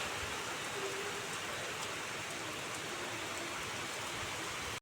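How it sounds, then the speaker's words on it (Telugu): Steady evening rain falls outdoors on a cloudy day, a dense continuous hiss of drops on surfaces that holds at an even level throughout, with no voices. "ఇక సాయంత్రం అయ్యేసరికి వర్షం అయితే స్టార్ట్ అయింది."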